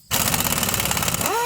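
An air-compressor-driven pneumatic impact gun rattles in a short, loud burst of rapid hammering while mounting 33-inch tires on a 7.3 Powerstroke truck, ending with a rising whine as it spins down.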